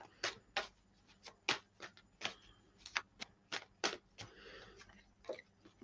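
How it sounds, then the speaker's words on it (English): Tarot cards being shuffled by hand, a quiet run of papery riffles and flicks in uneven bursts, close up but soft, with no talk. "So I'm just going to shuffle the cards"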